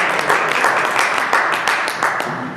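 Close, loud crowd applause for a poet on a poetry festival stage, brisk uneven clapping with distinct individual claps standing out over the dense mass.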